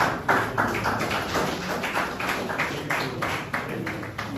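Audience applause in a lecture hall at the close of a public lecture honoring a guest, a steady wash of many hands clapping at close range for several seconds, with no voices over it.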